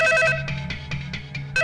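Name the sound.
telephone ringing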